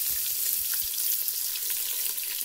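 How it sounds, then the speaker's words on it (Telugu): Onions frying in a pot over a village cooking fire hiss with a steady, fairly loud sizzle, broken by a few low knocks and stirring sounds near the start. "తర్వాత వచ్చేసి దీంట్లో మనం ఉల్లిగడ్డ వేసుకోవాలి."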